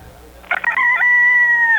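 A single loud, close rooster crow in a restaurant advertisement: a short broken start, then one long sustained cock-a-doodle-doo call.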